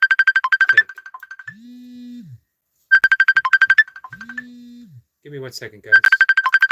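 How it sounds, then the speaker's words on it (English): A phone ringtone from an incoming call plays loud and close as a repeating electronic melody of rapid beeps, cycling twice with pauses, while someone speaks briefly over it. "I got a phone call that I'm unable to take."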